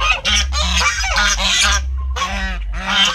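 Geese honking loudly and close by, a noisy run of harsh, repeated calls with a brief pause before the flock starts up again.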